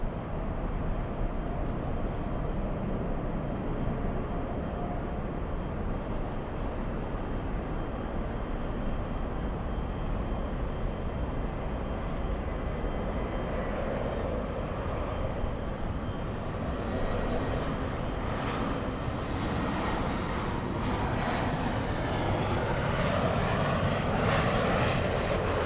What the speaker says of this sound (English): Looks like the 787 is already clear for takeoff.